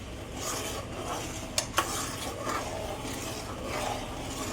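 Jaggery syrup stirred continuously in a pan: a steady swishing, scraping spoon against the metal with a soft bubbling sizzle, close and constant, with a couple of brief sharp knocks partway through.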